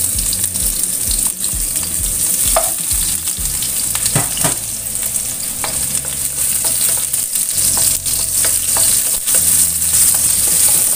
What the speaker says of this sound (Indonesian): Tumis bawang merah dan bawang putihnya ini sampai benar-benar tercium bau harumnya.